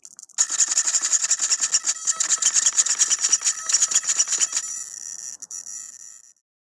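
An electric motor in a Losi 8ight RC car, powered by a 6-volt battery pack, whines loud and near in a rapid pulsing run as the throttle is worked, then eases off and falls silent.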